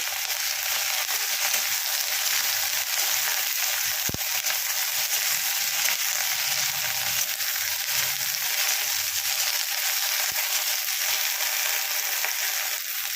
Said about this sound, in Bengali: প্রথমে আমি ভেন্ডিটা দিয়ে দেব। ভেন্ডিটাকে আমি ভালো করে ভেজে নেব।